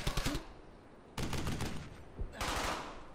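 Bursts of rapid automatic gunfire in the WWII shooter Brothers in Arms: Hell's Highway, three loud volleys separated by short pauses, with no talk.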